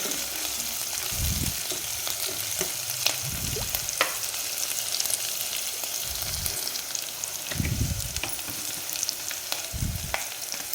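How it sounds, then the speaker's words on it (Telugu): Oil deep frying in a pot while a ladle stirs it, a soft continuous sizzle with occasional low scraping sweeps of the ladle, close and steady, no talking. "బాగా డీప్ ఫ్రై అయిన దాకా మనం గరిటతో కలు తిప్పుకుంటూ ఉండాలి"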